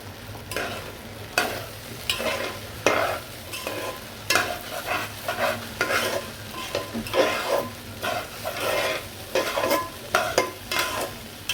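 Rice for pilaf fries in a pot while a spoon stirs it, giving repeated scraping strokes over a steady low sizzle, close and moderately loud with no talking.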